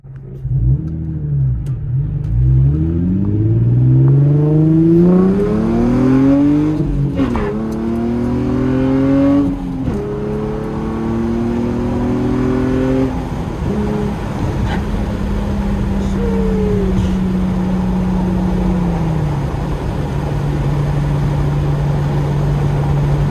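An Infiniti G35 Coupe pulls hard in second gear, the engine note climbing steeply through repeated rising sweeps, then settling into a steady drone after the shift, loud and close from inside the car.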